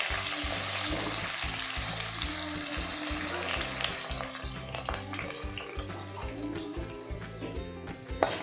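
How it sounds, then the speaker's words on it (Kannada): Cumin and finely chopped onion frying in oil in a kadai, a steady close hiss of sizzling that runs the whole time, with a rhythmic low thumping beneath and a few light stirring clicks toward the end. "ಇದನ್ನು ಸ್ವಲ್ಪ ಜೀರಿಗೆ, ಒಂದು ಬಿಗ್ ಸೈಜ್ ಆನಿಯನ್ನು ಸಣ್ಣ ಕಟ್ ಮಾಡಿ ಹಾಕ್ಕೋಬೇಕು"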